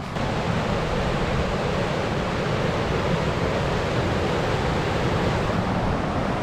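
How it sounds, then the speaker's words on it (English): A swollen river rushes past in a dense, steady roar of flowing water, loud and close, with no voices over it. "Oh my God, look at this river."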